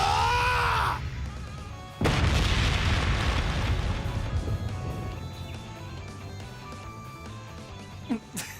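Ungula barrage attack explosions in Trails beyond the Horizon: a heavy booming blast hits suddenly after a brief sweeping effect, then rumbles and rings out as a long decaying roar, with a short sharp sound near the end.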